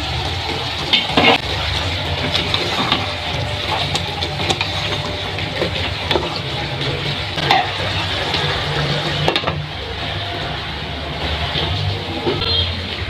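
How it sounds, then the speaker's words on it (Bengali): Papaya pieces stirred in a cooking pot for a beef and papaya curry, giving a steady scraping, sizzling texture with a low background rumble throughout. "এখন একটু নেড়ে নিচ্ছি।"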